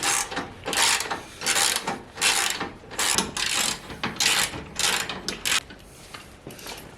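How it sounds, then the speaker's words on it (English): A hand ratchet clicks in repeated bursts while three bolts are backed out of the bumper plate on a Jeep Willys Gladiator's OEM bumper, with short pauses between the rhythmic runs of close pawl clicks. "So we're just taking these 3 bolts off so I can get access to this plate"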